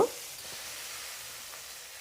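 Chicken pieces deep frying in oil over a moderate flame give a steady, fairly quiet sizzling hiss that holds evenly throughout, with no voices.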